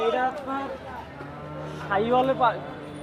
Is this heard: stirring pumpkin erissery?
no